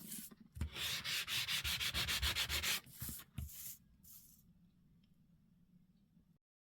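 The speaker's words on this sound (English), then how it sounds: "sanding out that brightness and shininess." A sandpaper block scrubs across a magazine page to distress it, making rapid, close, rhythmic rasping strokes for a few seconds, then a couple of scattered rubs before fading to a low hum.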